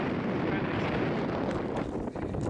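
Strong wind blows on the mountain trail down from Wasson Peak in Saguaro National Park. It makes a loud, continuous rumbling buffet against the microphone that smothers everything else and eases only slightly near the end.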